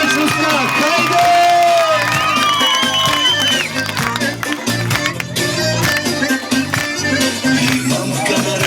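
A large crowd at an evangelistic meeting in Tsarevo, Bulgaria, cheers and whoops loudly, with applause and shouting voices blending into a dense roar that stays strong throughout.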